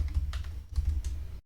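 Computer keyboard keys clatter in quick bursts of close typing while entering commands at a FreeDOS prompt, then stop abruptly.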